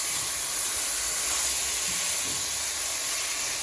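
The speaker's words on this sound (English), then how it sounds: "I'm going to let these vegetables cook for just a few minutes more until things soften up a little bit." Vegetables with celery, turmeric and garlic cook in a pot with a constant soft hiss and sizzle, steady throughout with no voices.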